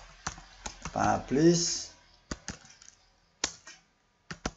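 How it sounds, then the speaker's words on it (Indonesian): Search terms being typed on a computer keyboard, sharp key clicks in short bursts and single strokes, with a brief stretch of speech near the start. "Maka di Google cukup kita ketik"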